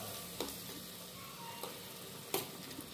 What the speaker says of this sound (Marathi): आता तेलात फ्राय करून घेतला मस्त पैकी